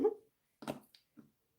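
A dog makes a few short, sharp vocal bursts, a louder opening one followed by two quieter, spaced yips, close by with no talking over them.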